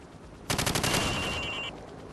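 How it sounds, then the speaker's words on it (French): Rapid automatic gunfire at moving targets on a Call of Duty training range, a tight burst of sharp cracks followed by a ringing, fading tail and a thin high tone, loud and close with no speech. "tire sur toutes les cibles en mouvement"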